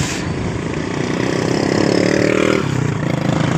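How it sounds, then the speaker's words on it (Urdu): A motorcycle ridden fast on a cold morning runs with a steady buzzing engine note that swells louder midway and then eases, close and continuous with no voices. "جی ماما بھگاتے جاؤ موٹر سائیکل، سردی ہے"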